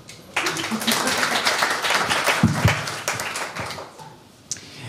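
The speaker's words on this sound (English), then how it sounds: "So, small applause, please." A small audience at a startup pitch competition finale in Prague claps for a few seconds, a moderate patter of hands close to the microphone with some voices mixed in, fading toward the end.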